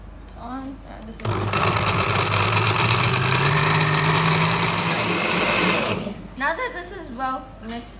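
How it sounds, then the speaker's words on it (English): A blender whirs loudly for about five seconds as it mixes falsa fruit with water into a drink, starting abruptly and stopping just as abruptly, with a voice speaking briefly before and after. "I'm going to turn the blender on."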